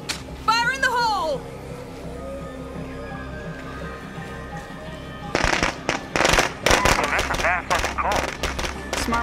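A grenade goes off in State of Decay 2, a burst of sharp cracking bangs and rapid popping that erupts midway and keeps rattling loudly, after an earlier spoken shout over a low game backdrop.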